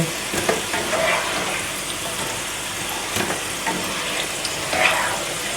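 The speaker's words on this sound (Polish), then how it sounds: "Frytki smażymy porcjami" Steady, loud sizzling of homemade potato fries frying in hot oil in batches, with crackling bursts and occasional stirring noises throughout.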